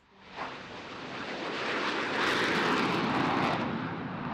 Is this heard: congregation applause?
no